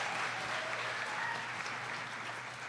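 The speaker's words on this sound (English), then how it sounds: "Give them a round of applause." At a jigsaw puzzle competition final, a crowd gives the volunteer judges a fairly quiet, steady round of applause that holds evenly throughout the short stretch.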